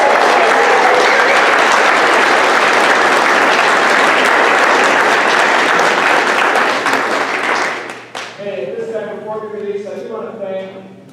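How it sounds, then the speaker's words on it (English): Loud, dense applause from an audience for a graduating 8th grade class of 2020, sustained for about eight seconds before fading as a voice begins speaking over the tail. "Let's give a round of applause for our graduating class of"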